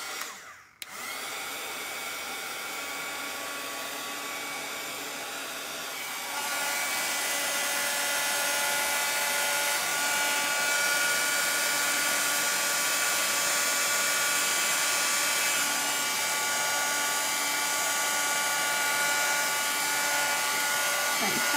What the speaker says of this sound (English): I'm going to help it out with a little bit of the dryer.